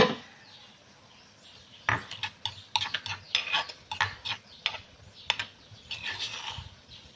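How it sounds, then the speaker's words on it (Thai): A metal pot lid is lifted off a cooking pot over a home stove while Thai curry with grilled fish and sweet leaf greens is being made, giving a series of close, sharp clinks and scrapes against a steady low background hum. "เปิดฝาก่อนเนาะเปิดฝาหม้อก่อน"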